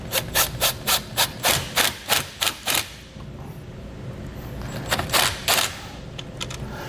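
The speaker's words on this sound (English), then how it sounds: "and then get that nut reinstalled on there." A nut being reinstalled on the battery stud of a 2021 Chevrolet fitted with a Roadmaster automatic battery disconnect gives a close run of quick ratcheting clicks, then a short pause and a few more bursts, with no talking.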